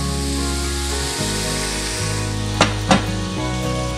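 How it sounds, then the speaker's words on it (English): Diced onion hitting a hot skillet sizzles steadily and loudly, a constant frying hiss with a couple of sharp clacks partway through, no voices. "our skillet is nice and hot. I'm also gonna go ahead and add in our onion"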